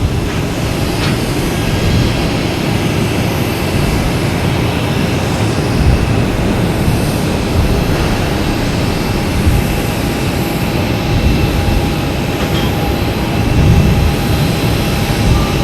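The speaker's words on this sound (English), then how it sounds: "Next taking off is Southwest 737 MAX 8 heading to Nashville." A Southwest Boeing 737 MAX 8 takes off at Boston Logan Airport, its jet engines producing a loud, steady broadband roar that holds throughout with no talk over it.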